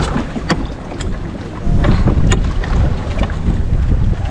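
Strong wind buffets a fishing boat at sea during crab and shrimp netting, a steady loud roar with gusts, water splash and occasional sharp knocks, swelling louder partway through.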